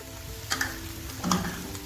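Chicken and vegetables stir-fried with black pepper, chicken powder, salt and soy sauce in a pan, giving a steady sizzle broken by a few scraping stirs; the sound stays close and moderately loud, with no talking.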